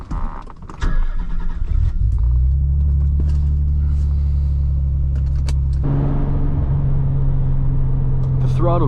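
Freshly built Nissan 300ZX twin turbo starting and idling from inside the car, a loud deep steady engine drone with a rev change partway through, plus brief mechanical clicks.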